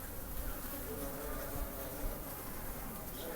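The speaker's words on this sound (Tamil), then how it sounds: "ஃபுல்லாக தேனீக்கெல்லாம் என்ன பண்ணிகிட்ருக்கு, அந்த அடைங்களெல்லாம் சரி பண்ணிகிட்ருக்கு" Honey bees swarm over the comb frames of a beekeeping hive in Ariyalur, Tamil Nadu, a dense, steady buzzing hum at close range.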